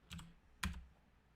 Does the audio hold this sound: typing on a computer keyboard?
yes